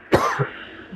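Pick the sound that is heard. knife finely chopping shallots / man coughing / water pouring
man coughing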